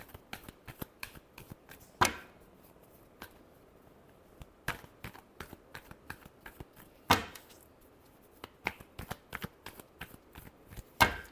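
Tarot cards being shuffled, a dense run of soft riffling and slapping clicks with two sharper, louder riffles standing out, close and clear with no talk over them.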